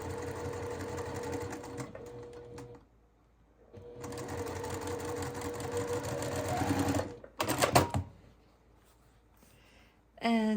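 A sewing machine stitches a curved quilt seam in two steady, humming runs of a few seconds each, separated by a short pause. A brief burst of faster stitching follows, then quiet handling noise.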